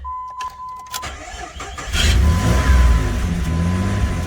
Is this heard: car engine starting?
yes